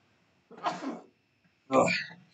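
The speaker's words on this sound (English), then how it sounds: "No cards were harmed during that sneeze." Two sneezes from one person, a softer one followed after a pause by a louder sharp burst, close and alone in a quiet room.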